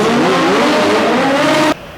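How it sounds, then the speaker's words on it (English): Two Triumph Street Triple R 675cc stunt motorcycles revving hard on a smooth surface at a stunt show, a loud continuous engine roar with rising pitch that cuts off abruptly near the end. "just giving it hell on the stunt bikes"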